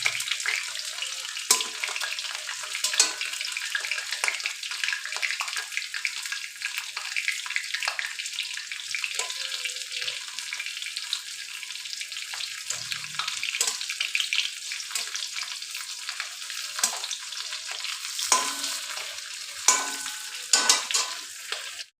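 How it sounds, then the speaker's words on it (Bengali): Pointed gourd (potol) pieces frying in oil in a pan, giving a steady, close sizzle with occasional stirring scrapes throughout, and no talking. "আমার লাল লাল করে পটলগুলো সব ভাজা হয়ে গিয়েছে।"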